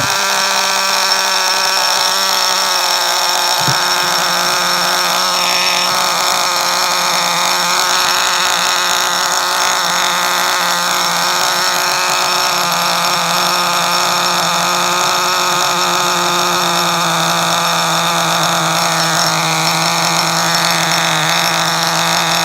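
A steady mechanical whir hums on continuously with a high-pitched whine as a power drill spins over a 1/16-scale nitro RC truggy engine, fairly loud and unbroken throughout.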